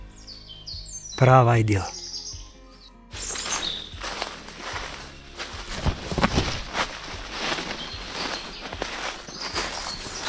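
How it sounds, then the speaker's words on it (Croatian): Birds chirp and sing on a mountain, with a high insect hum in the background, footsteps crunching nearby, and someone speaking briefly amid the outdoor ambience. "Pored pjeva ptica čujemo i rojeve insekata."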